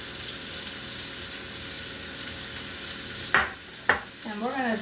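Onions and garlic sautéing in steak drippings in a pan, a steady broadband sizzle with two sharp stirring scrapes near the end and a brief voice-like sound at the close.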